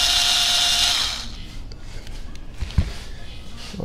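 A power tool gun whirs loudly for about a second while backing out a bolt on a Redcat Racing Gen8 RC truck skid plate, then cuts off, leaving light handling clatter and a soft knock nearby.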